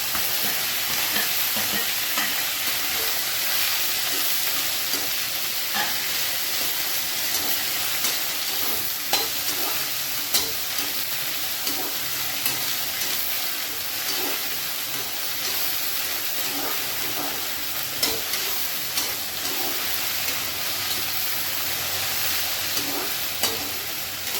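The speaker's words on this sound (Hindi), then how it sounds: "अब मैं इसमें ऐड करूँगी भिंडी।" Okra frying in a pan with browned garlic and green chili, stirred steadily: a constant close hiss and sizzle of oil with frequent scraping and clinking stirs throughout, no talking.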